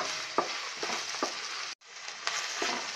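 Ginger and garlic fry in a pan for paneer masala, giving a steady bright sizzle with a few soft stirring knocks and one brief break in the hiss.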